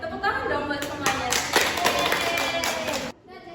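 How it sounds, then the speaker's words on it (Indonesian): A group of students claps during an Indonesian classroom lesson, a dense, steady burst of applause lasting about three seconds before cutting off abruptly, with voices mixed in. "Tepuk tangan dong buat semuanya."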